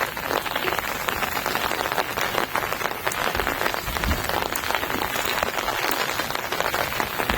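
Heavy rain pours steadily outdoors at a fishing spot, a dense, even hiss of drops on surfaces, close and continuous throughout.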